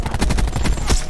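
Rapid bursts of automatic gunfire from the video game Black Ops 4, close and loud with repeated cracking shots throughout and no talk.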